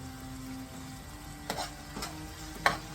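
Spices are stirred into lamb rogan josh in a pan: a low, quiet sizzle with three short scraping clicks of a utensil spaced a second or so apart.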